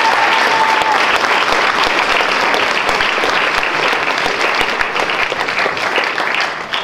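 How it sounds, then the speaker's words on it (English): A big round of applause from the crowd at a high school signing ceremony where student athletes sign college letters of intent. Dense and loud clapping runs throughout, easing off slightly near the end, with no speech. "so if you please give a big round of applause"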